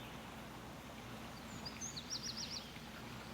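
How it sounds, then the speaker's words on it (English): Birds chirp in a short run of high, quick tweets near the middle, fairly faint above a steady low background hum. "The birds are chirping."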